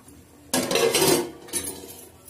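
A steel plate set down as a lid over a pan of cooking stuffed eggplant gives a close, bright metallic clatter and ring, then a second lighter clink a second later.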